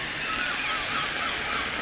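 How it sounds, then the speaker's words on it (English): Seagull cries come from an ambient sound unit on a model railway layout, faint repeated calls sitting inside a steady, hissing background wash. "we're back to the seagulls"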